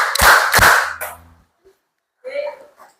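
Students in a classroom clap their hands together on a teacher's instruction, with two loud sharp claps close together near the start, followed by a short pause and then brief speech.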